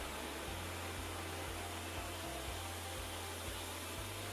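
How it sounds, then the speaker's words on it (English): Shop vacuum switched to blower mode forcing air through a truck's cooling system during an Evans coolant installation, a steady loud broadband rush with a low hum and faint periodic pulsing, no voices. "we're sitting here with the vacuum now actually turned into blower mode, and we're going to force a little bit of air through this cooling system"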